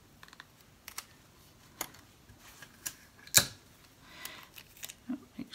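Adhesive tape is pressed onto the edge of an embroidery hoop: quiet scattered clicks and soft taps, with one short, sharp rasp of tape partway through, no voices.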